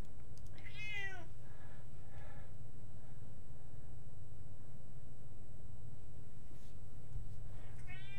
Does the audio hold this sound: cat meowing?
yes